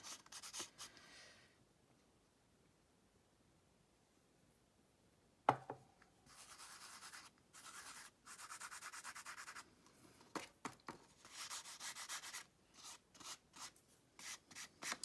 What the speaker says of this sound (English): You sprinkle it on and then it just sticks to the bits where it sticks, if you know what I mean. And give it a rub over with your fingers.